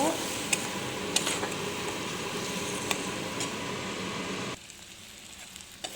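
Ginger-garlic paste masala with water added sizzles steadily in a pan, a constant hiss under a running kitchen chimney with a few sharp clicks of a spoon, before the noise drops off abruptly near the end.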